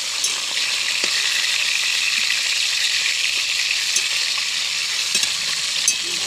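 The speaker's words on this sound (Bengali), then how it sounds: "মাছ ভাজা হচ্ছে" Fish frying in a pan gives a steady, dense sizzle and crackle that runs unbroken throughout at close range, with no voices over it.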